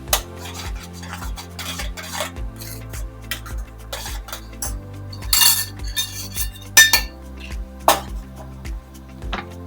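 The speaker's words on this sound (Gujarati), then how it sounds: "અને ઘડીક વખત પેસ્ટને હલાવતા રહેવાનું છે" A spoon scrapes and clinks against a pan in a regular rhythm, stirring chilli paste for Schezwan sauce. The metal taps are loud and close, with a few sharper clanks and no talk.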